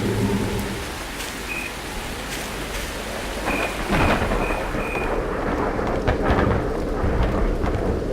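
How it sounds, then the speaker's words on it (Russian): Steady rain pours in the video game Underhell, a dense continuous hiss with low rumbling thunder swelling near the middle and a few faint tones on top. "Еще дождь пошел."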